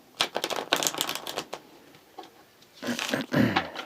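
Tarot cards are shuffled close by in quick, rapid bursts of riffling and flicking, then a pause before a second burst of shuffling, with a faint voice in the background.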